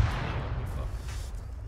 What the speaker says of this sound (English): I just saw the mortars land.